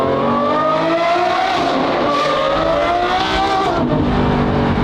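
A loud modified Porsche accelerates away close by, its engine revving and climbing in pitch through the gears with a harsh, raspy exhaust tone.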